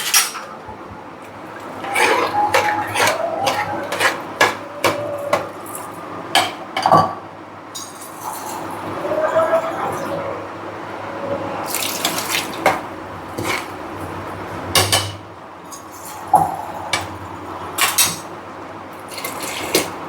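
A pot is lidded and set on the stove in a home kitchen, with scattered metallic clinks and knocks, louder clanks near the middle and end, over a watery clatter, with no talking.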